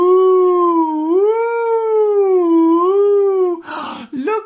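A voice imitates snowstorm wind, a long rising and falling wavering howl that carries loud and steady before breaking off into a short burst of noisy breath near the end.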